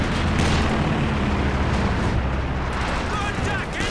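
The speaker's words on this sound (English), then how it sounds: "Does he have a bazooka on one of those ranges? It sounded like it." A bazooka shot fired amid a Company of Heroes 2 battle, one muffled boom lost in a constant roar of gunfire and explosions with no clear single blast.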